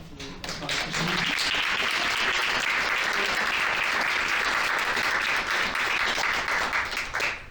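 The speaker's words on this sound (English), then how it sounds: "let's give a little round of applause for Sam" A crowd applauds steadily, a dense wash of clapping that holds at full strength for several seconds without voices.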